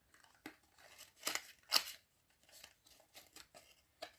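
Cardboard box holding vintage 1980s Mazda night-light bulbs being opened, with scattered short tearing and rustling bursts, two sharper rips near the middle, close and fairly quiet.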